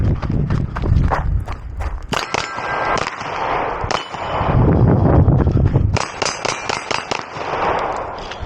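Glock pistol fired at steel targets, each shot a sharp crack followed by a ringing metallic clang, in a quick irregular string of several hits, close and loud.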